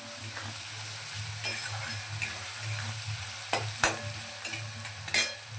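Ingredients frying in oil in a pan before pumpkin is added, giving a steady soft sizzle with occasional stirring scrapes and clicks, no talk.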